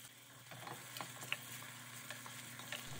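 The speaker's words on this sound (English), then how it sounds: "Then add in the onions and saute for about 2 to 3 minutes or until they are translucent" Onions for akara sauté in a pan with a faint, steady sizzle, broken by soft occasional ticks and taps of a utensil.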